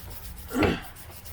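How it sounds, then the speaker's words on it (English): A steel scraper drags once across larch deadwood, giving a single close, rasping scrape that swells and fades in about half a second against a quiet background. "At this point, I'm actually scraping in both directions"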